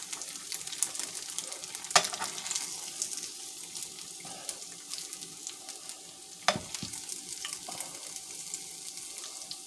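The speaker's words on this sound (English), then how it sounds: "And then I'm going to fry up the last of them." Vegan tofu chicken frying in oil on a stovetop, a quiet, steady sizzle and crackle with a few sharper pops and clinks of utensils against the pan.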